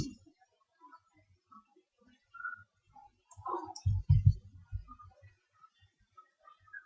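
Computer mouse clicking in scattered, sharp clicks, close and fairly quiet, with a person talking intermittently between them.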